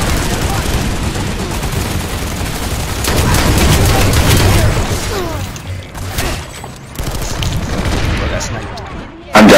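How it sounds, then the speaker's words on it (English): Grenade blast and surrounding gunfire in a team shooter match on a plant-and-hold map, a dense burst of booming, crackling combat noise that swells mid-clip and then tapers into scattered shots and clatter, with players talking over it. "Grenade got me."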